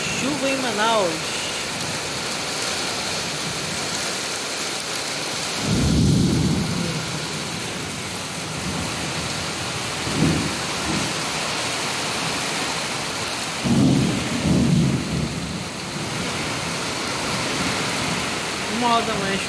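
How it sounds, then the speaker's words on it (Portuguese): Heavy nighttime rain pours steadily over Manaus during a thunderstorm, with several deep rumbles of thunder rolling in and out over the constant downpour. "Uma hora da manhã, chuva em Manaus."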